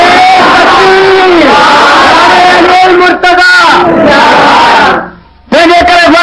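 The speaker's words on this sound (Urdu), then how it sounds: "تکبیر نعرے علی مرتضیٰ" A large crowd at a religious gathering shouts a slogan in unison, answering a lead call in loud, sustained, near roars that drop briefly before rising again.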